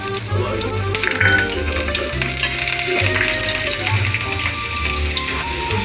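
Cumin, cloves, cinnamon and green chilies frying in hot oil for a soya chilli dish, a steady loud sizzle with stirring scrapes, close and continuous without talk.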